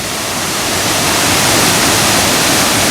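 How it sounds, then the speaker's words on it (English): Bridal Veil Falls at Bushkill Falls, Pennsylvania, pours with a loud, close, unbroken rushing roar of falling water, steady throughout with no voices. "We made it to Bridal Veil Falls."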